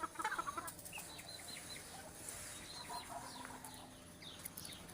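Chickens, including bare-necked hens, cluck and chirp softly in a new coop, with a brief flurry of calls at the start and scattered quieter clucks after.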